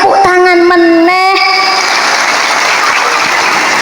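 Audience applause at a lively outdoor religious gathering in Magelang, a dense, loud wash of clapping that builds after a brief sustained tone at the start and holds to the end.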